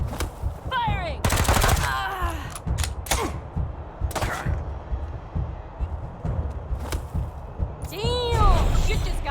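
Gunfire in the video game Wasteland 3: loud bursts of automatic weapon fire and single gunshots crackling in irregular volleys, mixed with metallic mechanical clatter, whooshing effects and sporadic combat sounds throughout.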